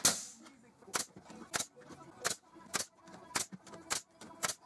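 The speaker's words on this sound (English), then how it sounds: "I'm going to fire in a couple of brad nails to hold this together temporarily." A brad nailer drives brad nails into a wooden tenon jig for a table saw, giving roughly nine sharp, evenly spaced snaps close by, with faint workshop noise between shots.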